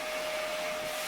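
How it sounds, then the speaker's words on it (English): A vacuum cleaner runs steadily in the background of a home kitchen during pie-making, a constant broadband whir with a thin tonal hum, unbroken for the whole moment and with no one talking. "decided to play with a vacuum behind me, so that's what you're hearing there"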